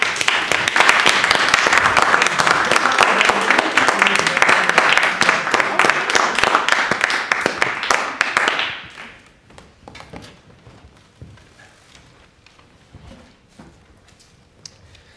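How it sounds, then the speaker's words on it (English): Dense, loud audience applause fills a literary reading event at PEN 2019, holding steady for several seconds before dying away into a quiet room with a few scattered late claps. "a big applause again for Anna and Andy"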